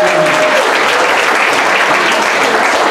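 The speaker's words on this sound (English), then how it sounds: "So I'd like to applaud her." Audience applause at a gathering for a newly licensed community association manager, a dense, loud, continuous burst of clapping heard close.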